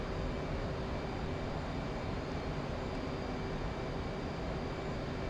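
An F/A-18C Hornet's jet engines drone on after a Harpoon missile launch in the DCS flight simulator, a steady, even roar at moderate level with a faint whine, unchanging for several seconds and with no voice.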